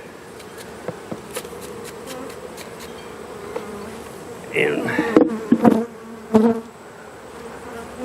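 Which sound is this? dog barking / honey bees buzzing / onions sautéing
honey bees buzzing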